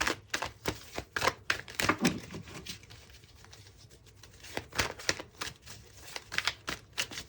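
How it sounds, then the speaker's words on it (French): Tarot cards are shuffled and drawn close by, a rapid, uneven patter of crisp flicks and taps with a brief lull in the middle before the flicking picks up again. "on va tirer 3 cartes de l'After Tarot là-dessus"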